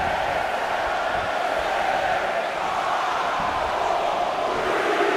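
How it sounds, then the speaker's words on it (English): A large arena crowd in WWE 2K19 roars in a steady, even wash of voices throughout a Women's Royal Rumble match, with no distinct counting rhythm standing out. "Listen to this crowd count the next one in"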